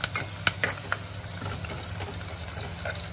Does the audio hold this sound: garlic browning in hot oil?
yes